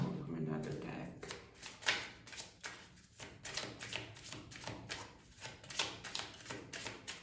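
A deck of cards is shuffled by hand in a steady run of soft, rhythmic riffling bursts, close and fairly quiet.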